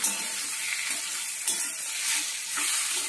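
Taro greens cooking with a hilsa fish head in a wok give off a steady, close sizzle, broken by a few soft stirring scrapes. No voices are heard.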